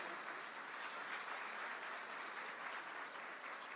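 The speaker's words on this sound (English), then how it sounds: "give her a round of applause" Soft, distant applause from an audience at a mayor's business luncheon, a dense, even wash of clapping that holds steady throughout with no distinct voices.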